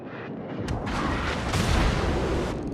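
Heavy naval gunfire and shell impacts strike a warship in World of Warships, a dense rumbling barrage of booms with sharp bursts near the middle, loud and close, with no talking.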